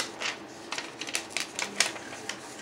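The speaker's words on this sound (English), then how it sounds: "So I am going to tape this over the heart, just basic scotch tape" Basic scotch tape is pulled and pressed over a paper heart inside a picture frame, giving a series of short, crisp crackling and tapping bursts close up with no talking.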